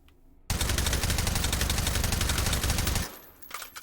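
AKS-74U carbine fitted with a suppressor firing full-auto in H3VR, one loud, rapid, even burst lasting about two and a half seconds, followed by brief mechanical clatter.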